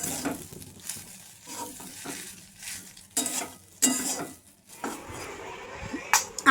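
Breakfast egg bhujia being stirred in a pan, giving close scraping and sizzling with a few sharp utensil clinks against the pan, in irregular bursts.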